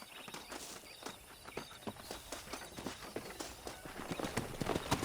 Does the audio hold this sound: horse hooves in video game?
yes